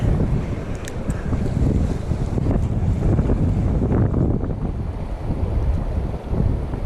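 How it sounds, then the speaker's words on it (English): Strong wind gusts across a microphone beside a river while someone fishes, giving a loud, steady buffeting rumble throughout with no speech. "The wind's blowing right in my face, which isn't helping with my casting."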